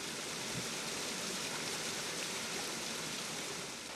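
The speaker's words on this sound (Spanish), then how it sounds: "Esta es la catarata Inchitut Naín, ubicada en el pueblo Ahuajún de Santa Rosa" The Inchitut Naín waterfall in Awajún territory of the Amazon rushes in a steady, dense roar of falling water, constant and broad with no breaks.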